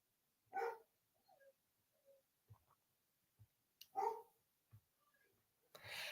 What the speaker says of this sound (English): we have got a barking parade downstairs with dogs.